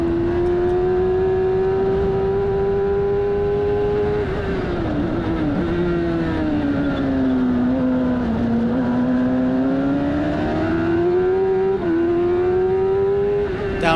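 F1000 race car engine heard onboard at Brands Hatch, a loud, sustained high-pitched drone whose pitch dips and climbs as the car carries over 100 mph through the S-bends, continuous with no talking.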